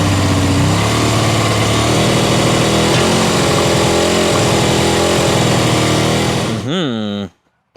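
A barn-find motorcycle engine runs roughly with only one cylinder firing. It is a loud, close, uneven idle that then cuts out abruptly near the end.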